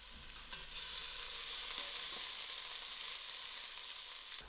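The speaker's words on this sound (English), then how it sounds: "I'm just going to put in my onions and allow these onions fry till it's soft." Sliced onions fry in hot oil in a pan, a steady close sizzling hiss that runs unbroken throughout with no talking.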